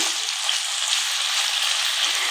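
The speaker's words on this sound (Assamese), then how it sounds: "এইখিনি এতিয়া মই ধুনীয়াকৈ ৰঙচুৱাকৈ ভাজি ল'ম" Pumpkin pieces frying in a little oil until browned, a steady broadband sizzle holding even and fairly loud throughout with no voices.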